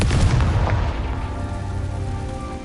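A Confringo fire spell from Hogwarts Legacy goes off in one loud, booming blast, and its deep rumble trails away over the next couple of seconds.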